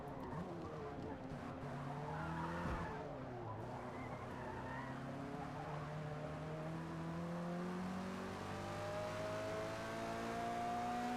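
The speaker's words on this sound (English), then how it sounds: "It's a fast Mustang. A fast, squirrely one." A fast Ford Mustang races along the Nürburgring, its engine note climbing and sliding in steady rising sweeps, close and loud over a constant road and tire rush with no pause.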